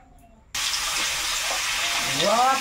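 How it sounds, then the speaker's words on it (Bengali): Fish drops into hot oil in a pan and bursts into a loud, sudden sizzle that continues as a steady close hiss, with a faint voice near the end. "এবার একটু তেল দিয়ে দেবো, মাছগুলো ভেজে নেব"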